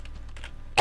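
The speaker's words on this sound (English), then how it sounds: "That was a cough, not a sneeze." A single short, close cough from a person playing a video game, a brief burst right at the end after a few quiet moments.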